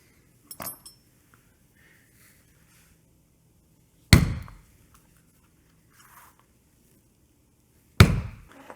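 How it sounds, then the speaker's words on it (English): Three sharp, separate punch strikes through Herman Oak leather making 1/8 inch holes, each a loud close thud with a short ring, spaced a few seconds apart. "we're going to go ahead and punch those out, just an 1/8 inch hole"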